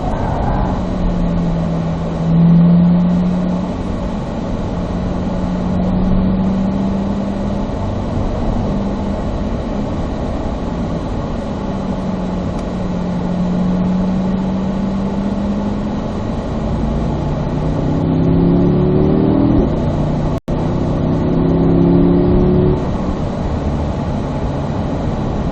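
A Corvette Z06 engine drones on a racetrack, its tone climbing and falling as the car accelerates and backs off, a steady, fairly loud hum throughout with no talk.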